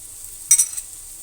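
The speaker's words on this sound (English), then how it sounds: "we are going to throw in the 3 eggs that I've already beaten and seasoned them as well" Beaten, seasoned eggs hit a hot wok for nasi goreng kampong, giving a brief faint hiss of sizzling that quickly fades.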